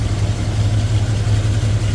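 The original engine of a 1956 Cadillac Coupe DeVille idles close by, a loud, steady, even low rumble that holds without revving throughout.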